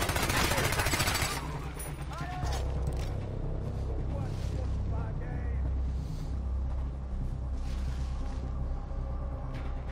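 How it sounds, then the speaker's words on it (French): Gunfire in the Far Cry 4 video game: a dense, loud burst of shots at the start gives way to a lingering roar of vehicle and ambient game noise, with more distant reports scattered through. "Oh, quelqu'un a tiré."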